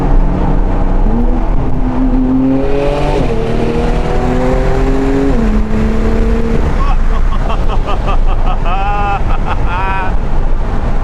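An expensive sports car worth over $300K idles as its engine warms up, a loud steady drone with rising and falling tones, under heavy wind noise and some voices nearby.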